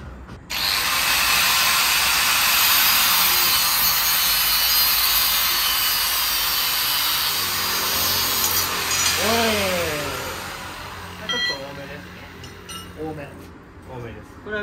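A car suspension coil spring cut with a power tool while lowering a Toyota Mark II sedan, a loud sustained high grinding whine that tapers off, then winding down, with people talking afterward.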